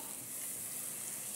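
Chopped onion frying in melted butter and olive oil in a pan, a faint, steady high sizzle that carries on evenly from start to finish with no voices.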